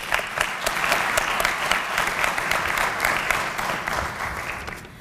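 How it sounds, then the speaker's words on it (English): An audience at a HOSA closing session breaks into sustained clapping, a dense, steady wash of many hands that carries on for several seconds before starting to fade. "So can we just give them a round of applause,"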